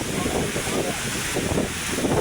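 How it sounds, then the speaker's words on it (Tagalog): Steady, roaring storm wind at Manila Bay buffets the microphone with a constant rushing noise, close and loud throughout. "Lakas ng hangin, ayan na, nagalit na."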